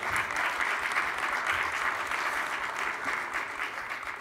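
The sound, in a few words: round of applause for Mayor de Blasio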